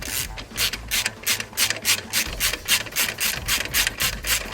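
Rapid ratcheting clicks in short bursts from a 12 mm ratchet tightening the alternator belt adjuster on a 2002 Subaru, close and fairly loud with brief pauses between strokes.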